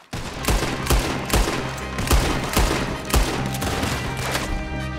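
Gunfire in Red Dead Redemption 2, a loud, dense volley of repeated close shots cracking in quick irregular succession throughout a busy firefight.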